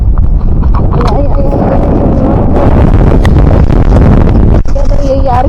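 Loud, roaring summer wind in Liberec, Czech Republic, buffets the microphone continuously, with muffled voices and clattering mixed into the gusts.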